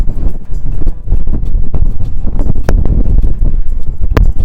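Loud, buffeting wind rumble batters the microphone throughout on the deck of the cruise ship Sky Princess, with sharp gusty pops and crackles breaking through the steady low roar.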